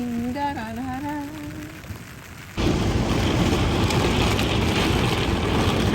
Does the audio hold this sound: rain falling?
yes